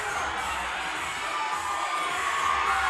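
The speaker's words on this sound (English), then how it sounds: "Cheering them on." Spectators at the Burn Boot Camp Athlete Games cheer on athletes finishing a workout race, a dense, unbroken roar of shouting voices that swells slightly toward the end.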